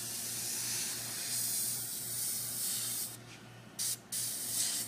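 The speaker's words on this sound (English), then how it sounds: "Got a very nice, smooth spray pattern on this airbrush." An airbrush sprays paint in a smooth, steady hiss close by, cutting off briefly twice near the end as the trigger is released and pulled again.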